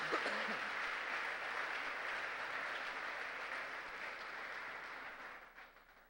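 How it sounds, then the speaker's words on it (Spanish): A church congregation applauding for the Lord during a Spanish-language sermon, sustained crowd clapping heard from some distance, fairly even throughout and gradually fading near the end, with no voices on top. "Denle un fuerte aplauso al Señor"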